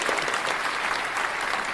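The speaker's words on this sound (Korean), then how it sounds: "박수로 환영하도록 하겠습니다." A church congregation applauds to welcome a guest speaker: a thick, continuous wash of clapping from many hands, loud and steady throughout with no speech on top.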